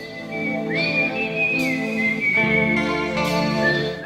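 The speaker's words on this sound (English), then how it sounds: "It's hard to whistle into a mic." A person whistles a steady, clear melody into a microphone, sustained notes gliding between pitches, close and alone.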